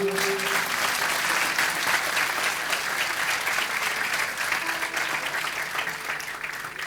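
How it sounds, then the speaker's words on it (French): A large audience applauds steadily and loudly throughout, a dense continuous clatter of clapping hands. "Méritons nos applaudissements les plus chaleureux, mesdames et messieurs."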